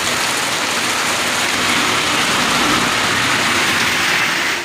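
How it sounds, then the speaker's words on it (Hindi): Heavy rain pours down steadily at a vegetable market in Sidhi, Madhya Pradesh, a dense, loud hiss of drops drumming on surfaces, unbroken from start to finish with no voices. "बहुत ज़्यादा बारिश हो रही है"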